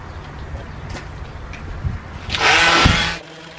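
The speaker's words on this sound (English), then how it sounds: "I'm going to go and give it a quick light sand to take some of the muck off the surface" A brief burst of light hand sanding on a wooden BBQ gate, a short scratchy rasp of about a second, close and fairly loud, with faint knocks and outdoor background before it.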